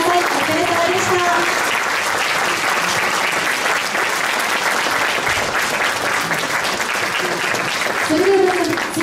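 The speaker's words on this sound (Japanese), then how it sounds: "会場の皆様、改めて皆様にご大きな拍手をお送りください。" A hall audience claps steadily at a Japanese florist competition as competitors leave, forming a dense, sustained wash of applause throughout, with a voice talking over it near the end.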